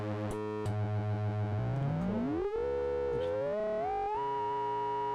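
Pure electronic sine tones from a Buchla-format THC Nested Vector Oscillator module glide and step in pitch, with wobbling modulated tones at first, then smooth rising sweeps, steady and synthetic with no voices.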